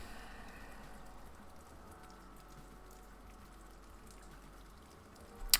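Soft, steady rain pattering on a surface, playing as a continuous ambient loop at low level with no voices, ending in a brief louder bump.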